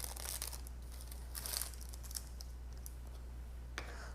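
Imitation crab sticks being torn apart by hand for a children's cooking class, close soft crinkly shredding and peeling with scattered small rustles and clicks.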